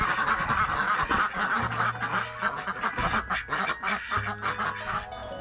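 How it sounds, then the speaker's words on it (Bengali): Ducks quack loudly and almost without pause at a rural-style craft village near Kolkata, several birds calling over one another close by. "আর এখানে রয়েছে হাঁসগুলো"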